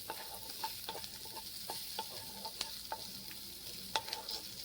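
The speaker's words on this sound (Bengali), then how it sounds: "দেখো কাজুগুলো এই পেঁয়াজের সঙ্গে ভেজে নিচ্ছি।" Cashews frying with chopped onions in a pan, a faint steady sizzle broken by light periodic clicks and scrapes of stirring.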